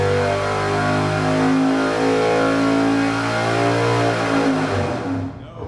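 A gasoline-fueled engine runs hard on a dyno with its ignition timing advanced two degrees, giving a loud, steady, deep roar that holds for several seconds and then drops off sharply at the end.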